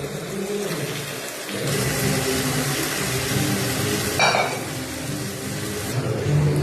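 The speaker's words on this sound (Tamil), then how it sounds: "இது போட்டுக்கலாம். 3/4 கிலோ சிக்கன்." Three-quarters of a kilo of chicken going into a pan of tomato masala with separated oil for biryani, a continuous close frying hiss and sizzle with stirring noises, swelling louder partway through.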